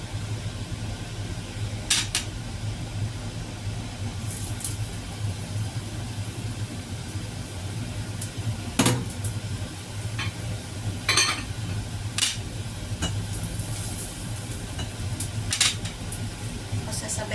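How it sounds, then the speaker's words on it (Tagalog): Ginger dropped into a hot frying pan sizzles in a steady, close hiss throughout, with occasional sharp clinks of utensils against the pan and a low hum underneath. "Lagay na natin yung luya."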